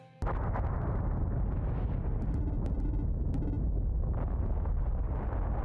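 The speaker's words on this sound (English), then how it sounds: "The cannon is beginning to erupt!" A volcano cannon in the Evoland 2 video game erupts with a sudden explosive burst, then a sustained loud roaring rumble with scattered sharp cracks.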